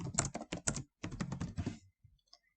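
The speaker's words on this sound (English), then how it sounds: "and now I start typing here" Quick bursts of typing on a computer keyboard, close and crisp, in two runs of rapid key clicks separated by a brief pause, ending with a couple of isolated taps.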